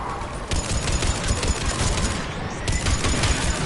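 Rapid bursts of gunfire from a mountain gun emplacement in a Mass Effect battle, a dense fusillade of repeated shots filling the scene loudly and continuously, with no one speaking.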